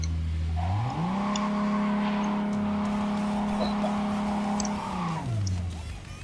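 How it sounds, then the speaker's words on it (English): Car burnout in the video game Cyberpunk 2077: the engine revs up and holds a loud, sustained tire squeal with steady pitch for several seconds before winding back down, with no voices over it. "So can I do the burnout?"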